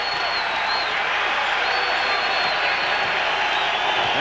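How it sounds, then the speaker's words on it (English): A basketball crowd at a college conference tournament game cheers and claps steadily, a dense, continuous roar of many voices filling a large arena, with no clear single speaker. "That gets the crowd on its feet now"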